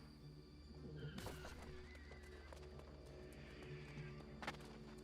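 In a video game, a horse gives a loud whinny that rises out of a low ambient game soundscape, followed by quieter snorts and clip-clop hoofbeats.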